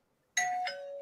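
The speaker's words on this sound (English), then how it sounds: "Where did she get a doorbell from? On her phone." A ding-dong doorbell chime played from a phone speaker, two clear tones in quick succession, close and alone after a moment of silence.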